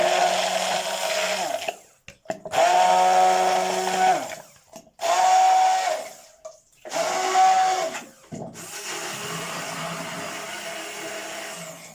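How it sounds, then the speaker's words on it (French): A blender whirs loudly, puréeing hair mask ingredients in several long bursts separated by brief pauses, the motor dropping off each time before starting again. "je vais mixer tout ça"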